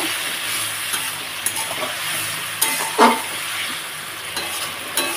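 Bata fish curry masala being stirred and fried in a pan: a constant sizzle broken by a few sharp scrapes and knocks of the spoon against the pan, one louder clatter midway, no voices.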